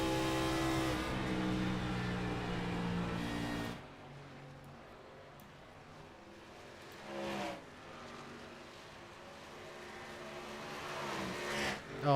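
Race car engine in a sim racing game replay at Auto Club Speedway, a steady loud drone at first that drops to a quieter distant hum, with brief swells as cars pass.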